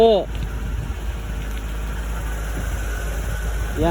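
A vehicle engine idles at a farm with a steady low hum that runs the whole time, while short whining tones flicker at the start and the end.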